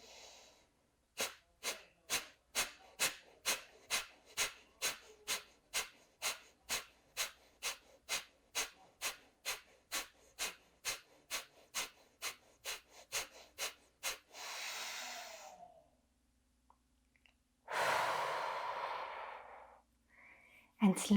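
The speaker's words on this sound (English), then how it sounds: "And then inhale for breath of fire." Breath of fire, a rapid rhythmic yoga breath, sounds as about thirty sharp, evenly spaced nasal exhales close to the listener. A long slow exhale follows, then a deep inhale and release.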